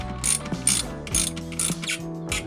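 Ratchet wrench tightening spark plugs on a Nissan Frontier 4.0 V6, a loud close rapid clicking of the pawl in repeated back-and-forth strokes, steady and continuous.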